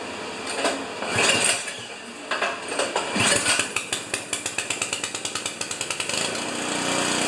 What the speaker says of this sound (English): With a ratchet wrench, you just go